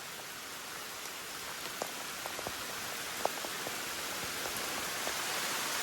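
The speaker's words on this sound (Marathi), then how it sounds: "पाऊस जोरात आला बा" Heavy rain falls in a forest as a soft, even hiss spread across the whole span, with scattered individual drops pattering on leaves close by.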